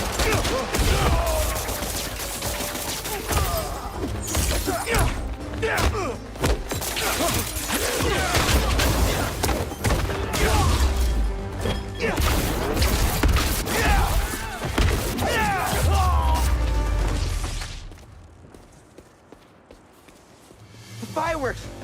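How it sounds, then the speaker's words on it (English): Rapid bursts of fireworks crackle and pop in a Marvel's Spider-Man 2 street fight, a dense, loud run of sharp reports over game sounds and shouting voices, cutting out abruptly near the end. "Fireworks! They're lit!"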